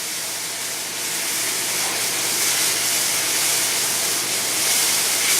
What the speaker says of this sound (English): I'm going to cook the pesto a little bit, just for about a minute, to cook out some of the garlic that I have in there